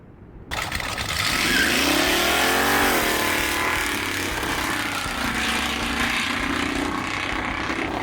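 Two Jaguars, a stock V12 and a V8-swapped one, drag racing on a back road: engines roar up loud and sustained after a brief quiet start, rising in pitch through acceleration before settling into a steady drone.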